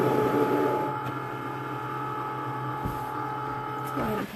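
An electronic craft cutting machine works on felt with a steady motorized hum and faint whirring, punctuated by a few brief clicks and shifts in pitch as the carriage moves, close and moderately quiet.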